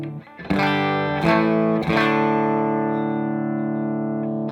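Nash T57 electric guitar through a Walrus Audio Deep Six compressor pedal into a Morgan RCA 35 amp, strummed a few times, the chords evenly squeezed and sustaining smoothly at a steady level before fading slightly.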